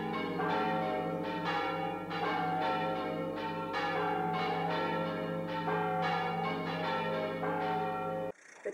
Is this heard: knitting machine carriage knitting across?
no